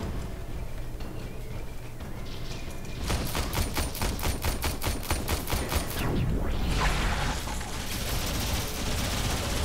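Rapid enemy gunfire in the futuristic sci-fi shooter Warframe, loud bursts of repeated shots crackling in quick succession that intensify midway and continue nearly throughout, with no talking.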